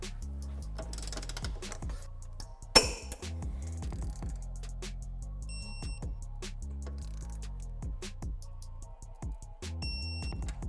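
Torque wrench tightening the rear subframe bolts on an S550 Mustang, close metallic ratchet clicks in short runs with one sharp clink and a faint hum underneath.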